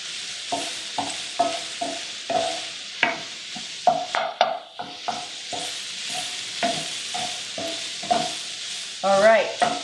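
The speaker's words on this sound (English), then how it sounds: "back to stirring my sausage" Sausage sizzling in a pan beside onions while being stirred, with rhythmic scraping strokes of the utensil over a steady sizzle, close and clear, ending in a brief squeaky scrape.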